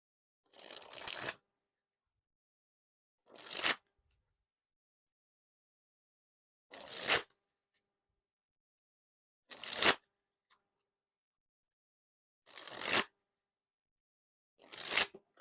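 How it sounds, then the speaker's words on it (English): Composition Deck playing cards riffled in a dribble flourish, six separate crisp fluttering bursts about every two to three seconds, close and clear with silence between them. "the cards are definitely slidey when you're doing the dribbles"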